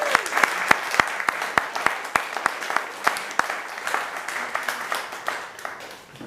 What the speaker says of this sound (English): I think a round of applause again.